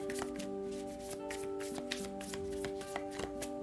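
Tarot cards shuffled by hand, soft close riffling and flicking repeated across a few seconds over a faint background hum.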